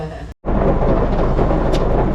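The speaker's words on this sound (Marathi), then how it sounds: "बाहेर बघा पाऊस केवढा पडतो आवाज तुम्हाला येतच असेल" Heavy rain roars steadily outside, a dense, loud wash of noise after a brief cut near the start.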